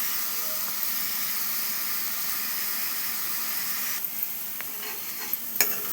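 Grated carrots frying in a pan for carrot burfi while being stirred, a steady soft sizzle and hiss with occasional scraping clicks from the spoon near the end, no voices.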